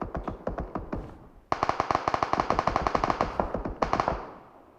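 Automatic gunfire in the mobile game PUBG Mobile, with rapid bursts of loud, close shots, a short gap, then a long dense volley and a final quick burst that ends in an echoing tail.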